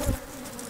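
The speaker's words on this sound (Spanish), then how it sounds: "Tú traes muchas abejas" Africanized honeybees swarming close by, a dense steady buzz with a low thump near the start, no speech.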